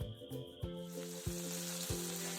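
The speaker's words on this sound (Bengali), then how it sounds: "কয়েকবার উল্টে পাল্টে ভেজে নেব।" Mourala fish fries in mustard oil in a pan with a quiet, steady sizzle, while overlapping tonal background music plays throughout with rhythmic plucked notes.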